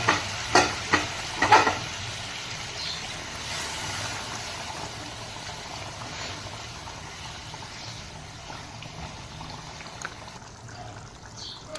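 Curry simmering in a pan after hot water has been poured in, giving a steady soft bubbling sizzle with a few stirring knocks at the start, alone without talk.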